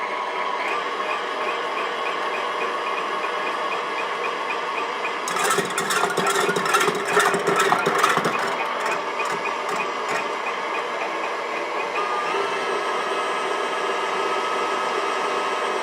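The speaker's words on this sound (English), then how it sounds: "I'm going to turn the mixer on. And we want to get these rather frothy before we start adding sugar" An electric mixer runs steadily, whipping egg whites for mini pavlovas toward frothy, a constant mid-pitched motor whir with a louder, clattering stretch partway through and no talking.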